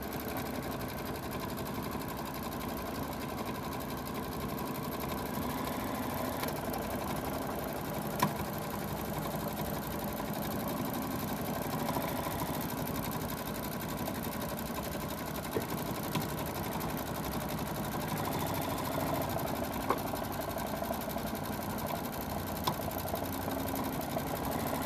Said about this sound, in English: So now we're tacking down the base fabric for our pumpkin.